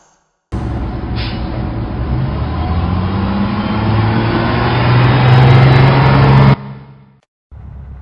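A school bus engine drones loudly and close by for about six seconds, rising gradually in a steady rumbling pull before cutting off abruptly, followed by a quieter stretch of vehicle noise.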